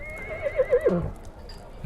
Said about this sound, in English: I just heard a pretty loud whinny outside.